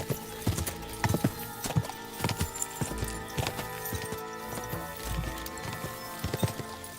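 Horse hooves clip-clopping at a steady trot in Kingdom Come: Deliverance II, close and loud with rhythmic thuds, plus a short whinny and faint game voices in the mix.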